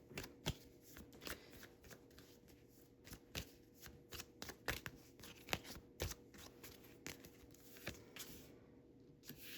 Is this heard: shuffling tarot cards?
yes